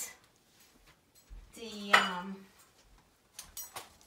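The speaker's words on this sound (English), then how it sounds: "So I'm gonna get the muffin pan, and then I will put into that" A metal muffin pan clanks as it is picked up and set down, one sharp ringing clatter in the middle with a few softer knocks around it in a quiet room.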